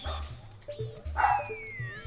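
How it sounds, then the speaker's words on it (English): A small dog barks repeatedly in a room, sharp yips and bow-wows coming in a quick irregular series, mixed with video game music and sound effects from the Legend of Zelda: Majora's Mask. "Just like my small dog that's barking."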